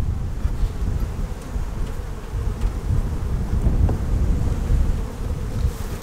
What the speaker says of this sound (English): So much bee power right here.